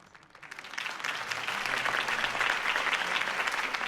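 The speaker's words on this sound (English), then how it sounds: "could have heard that applause" Loud applause from a crowd in the video game Batman: The Telltale Series swells after a brief quiet start and holds steady, dense clapping throughout.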